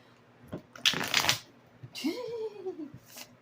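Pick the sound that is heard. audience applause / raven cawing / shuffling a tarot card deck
shuffling a tarot card deck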